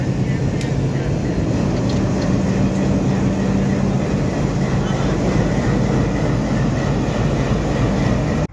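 A railway engine makes a trial run on a pit line at Balurghat, producing a loud, continuous mechanical rumble with rushing noise that stays steady throughout.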